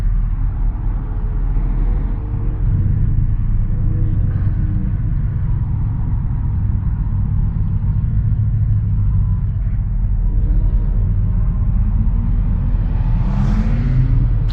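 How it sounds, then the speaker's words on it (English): Cars at a busy car meet rumble through a loud, continuous low drone. Engine tone swells slightly in places, and one rising rev near the end stands out. "Bunch of nice cars here."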